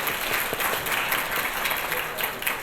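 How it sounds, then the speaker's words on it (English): Audience at an education equity summit applauding the hotel banquet staff after lunch; steady, dense clapping from a large crowd in a banquet room, continuous and fairly close throughout. "Can we please give our Omni Hotel banquet staff a round of applause?"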